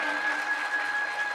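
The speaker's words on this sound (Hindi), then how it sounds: "जोरदार ताली बजाने लगे" An audience claps loudly at a devotional Bhagavat katha gathering, a dense, continuous burst of many hands applauding at once, with a steady tone running faintly underneath.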